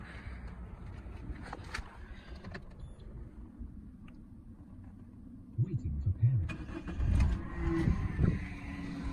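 A 1.6 VTi car engine with a repaired water pump whistle cranks and catches, then settles into a low running rumble, with people talking nearby.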